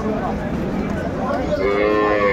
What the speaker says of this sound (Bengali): এটা হচ্ছে গাভী আমরা দেখছিলাম, বেশ সুন্দর মানের গাভী বাছুর